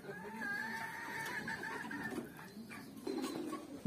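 Chickens cluck and murmur together nearby while waiting for vitamin-treated water, a steady flock chatter with a few louder calls toward the end.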